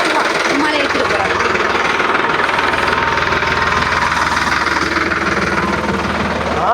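A tractor engine runs nearby with a steady rough, rattling chug and dense mechanical clatter throughout.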